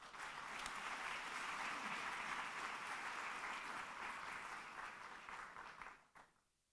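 Conference audience applauding at a data festival, steady dense clapping that fills the room, then tapers and cuts off near the end.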